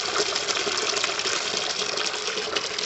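Water gushes steadily out of a bell siphon as it flushes, a continuous close splashing rush with no voices over it.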